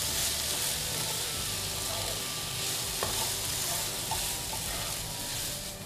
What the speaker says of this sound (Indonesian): diaduk rata.